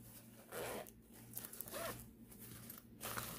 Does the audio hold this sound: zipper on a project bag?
yes